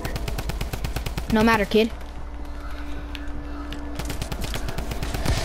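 Rapid automatic gunfire in a video game rattles out in a dense, loud stream that runs almost the whole time, with a voice talking over it partway through.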